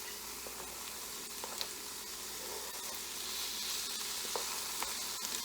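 Chicken fajitas with onions and peppers sizzle steadily in a frying pan, a soft continuous hiss with occasional faint pops and stirring.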